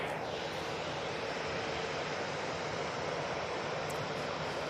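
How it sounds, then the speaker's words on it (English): A Boeing 737-800 airliner takes off from Manchester Airport bound for Gothenburg, its engines a loud, steady broadband roar that holds unbroken throughout, with no voices. "So finally we've got this 737-800 going up to Gothenburg"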